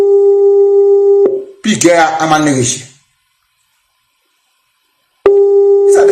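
Telephone busy signal on an unanswered call: a steady pulsed tone that runs loud for about a second, breaks off under a burst of nearby talk, then returns after a long silence.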